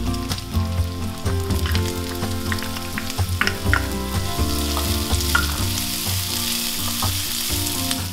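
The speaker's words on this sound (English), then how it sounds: "I'm gonna add my onion and we're gonna cook it until it's" Onion frying in bacon grease in a pan, a loud, continuous crackling sizzle with scattered pops and occasional stirring scrapes, close up and with no talking.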